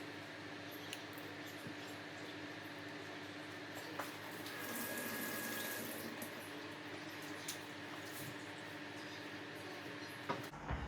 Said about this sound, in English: and we're going to give them a quick wash.